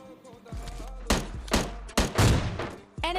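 Gunfire in the mobile battle-royale game PUBG Mobile Lite, with several sharp, punchy shots spaced about half a second apart, loud and close, over faint background game audio.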